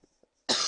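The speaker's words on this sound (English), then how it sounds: "I'm gonna cough now." A single sharp cough close to the microphone after near silence, while a Football Manager 2013 match plays.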